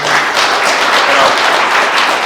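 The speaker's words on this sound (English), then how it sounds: "round of applause. Thank you for coming." Ceremony audience breaks into a brief, loud round of applause for a welcomed guest, thick continuous clapping throughout with a faint voice underneath.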